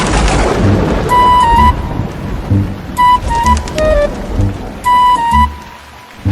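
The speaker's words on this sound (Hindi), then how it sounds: "कई दिनों से लगातार बारिश हो रही थी।" Heavy, continuous rain pours down with rumbling thunder in a storm lasting several days, loud and close, interrupted by repeated bursts of bright tonal chiming.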